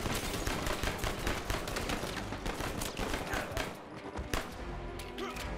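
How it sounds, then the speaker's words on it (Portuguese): Gunfire in a video game trailer shown at E3 2015 crackles in rapid, dense bursts of shots and volleys, loud and sustained, with a voice commenting faintly beneath it. "Começa o tiroteio."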